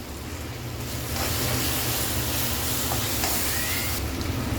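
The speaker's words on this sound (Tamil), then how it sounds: "இஞ்சி பூண்டு விழுது சேர்க்குறேன்." Ginger garlic paste frying in a hot pan for chicken keema curry, with a steady close sizzle that grows louder after the first second and holds at an even, dense hiss with no talking.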